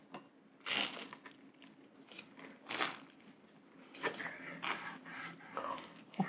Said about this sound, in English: Let's listen to this crunch.